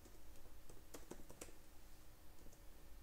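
Keystrokes on a computer keyboard while React code is entered, a quiet scattered run of clicks with a short burst in the middle, close and fairly faint against a steady room hum.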